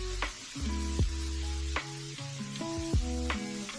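Garlic and chili fry in a pan with a steady close sizzle, broken by several scraping stirs of a utensil against the pan at irregular intervals.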